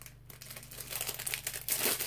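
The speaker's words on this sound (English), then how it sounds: "Sorry for the noise from the bags." Plastic bags crinkling while being handled during a scent haul, continuous close rustling and crackling with irregular louder bursts, no talk.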